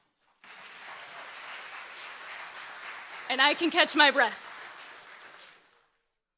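Audience applause at a State of the City event in American Canyon, a broad steady wash of clapping throughout, with someone speaking briefly over it midway.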